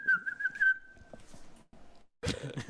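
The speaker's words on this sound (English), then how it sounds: "Whistle." A referee's whistle at a boys high school bi-district soccer playoff match gives one sustained, shrill blast with a slight warble at the start. It fades into quieter background field noise, and a louder burst of noise follows near the end.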